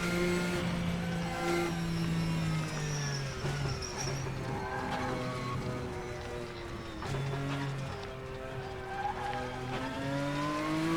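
A Porsche race car with a rear-heavy build runs in a sim racing video game, its engine note holding steady with pitch rises and drops through shifts, continuous and prominent throughout.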